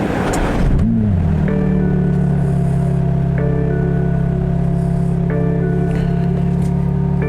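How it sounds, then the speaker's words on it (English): A 2022 BMW M3 engine cranks and catches, then settles into a loud, steady idle with a deep rumble and a faint whine. "Here is the startup feature of the car"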